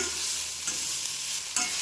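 Soya chunks being stir-fried in a pan, a steady close hiss of frying with a couple of brief scraping stirs, with no talk.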